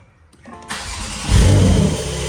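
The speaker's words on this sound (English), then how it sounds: "All you have to do is turn on the car." A 2023 Porsche 911 engine cranks and catches, then its idle swells into a loud rev before settling to a steady, close running note.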